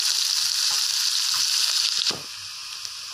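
Onions frying in hot oil with mustard seeds and urad dal, a steady close sizzle that carries throughout and eases off slightly near the end, with faint stirring clicks and no voices.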